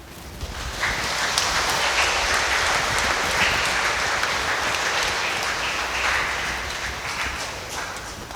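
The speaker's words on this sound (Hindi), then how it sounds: "तो ताली बनती है कि नहीं बनती है?" An audience in a church gathering applauds, a dense, steady wash of clapping that swells and holds for several seconds before easing slightly at the end.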